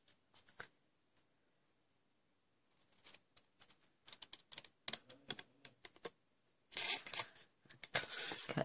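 Scissors cut through card stock for a tri-fold shutter card in close, quiet snips and crisp rasping strokes that come in irregular clusters and grow denser and louder toward the end.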